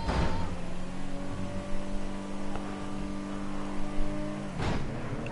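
A fast car in GTA 5 drives with a steady, loud engine drone and slight rev changes, ending in a sharp burst near the end; no talk over it.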